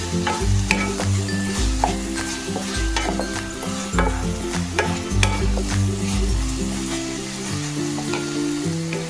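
Paneer fries in a wok while being stirred: a steady, close sizzle runs throughout with repeated scraping strokes of a spatula against the metal and a low, dense hum underneath.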